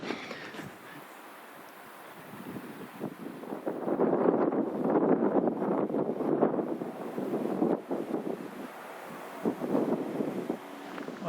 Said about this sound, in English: It's quite a wind that's blown up now.